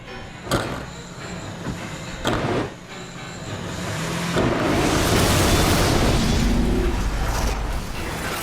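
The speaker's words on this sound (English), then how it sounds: "Someone being set on fire" A flamethrower sets a stunt performer on fire on a film set, a few sharp bursts followed by a rising, sustained roaring whoosh of flame that stays loud and steady.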